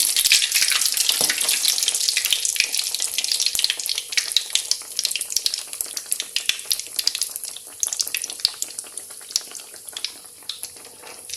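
Egg-dipped bread toast frying in a hot pan, a steady bright sizzle with crackling pops that gradually thins and becomes more sporadic, close and fairly loud with no voices.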